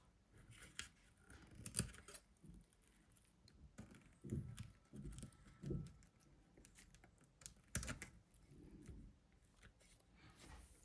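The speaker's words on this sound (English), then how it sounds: "I might have to snip it." Scissors snip close by in a quiet room, a series of crisp, separate cuts spaced by short pauses, with light handling rustles in between.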